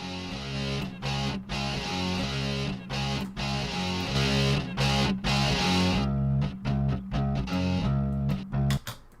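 A song from the rhythm game Amplitude plays in practice mode, pitch-shifted 17% higher: loud, dense electronic music with a steady pulsing beat, choppy cut-outs and stutters toward the end.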